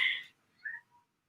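A kitten about six to nine months old gives a short high meow, then two fainter squeaky follow-up calls, brief and close with silence between.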